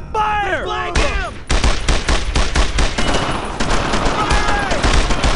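Dense World War II gunfire in the video game Brothers In Arms: Road To Hill 30, with bursts of rapid rifle and machine-gun shots crackling close and loud for several seconds; shouted voices are heard briefly at the start.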